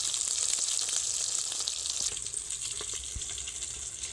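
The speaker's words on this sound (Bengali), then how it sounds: "সুন্দর লালচে করে ভেজে নিয়েছি" Fish frying in hot oil during a home Bengali fish recipe, a steady bright crackling sizzle that holds close and loud throughout, with faint occasional pops and no talking.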